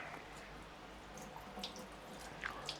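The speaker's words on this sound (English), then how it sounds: "My hands are really oily, so I'm going to give it a bit more water." Water trickles and drips steadily into a clay pot of rice, a faint running-tap sound with a few brighter splashes near the end, no talking.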